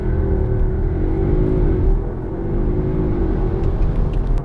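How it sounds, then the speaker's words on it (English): A 2020 Audi S3 Sportback sits stationary with its engine held at raised revs before a launch, a loud, sustained rumble that swells and dips slightly, with no talking. "stability control off, left foot on the brake, build up the revs"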